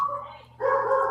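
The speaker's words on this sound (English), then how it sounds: "sorry that the dogs are barking" Dogs bark indoors behind a remote talk-show guest, two short loud barks split by a brief gap, near and unmasked by speech.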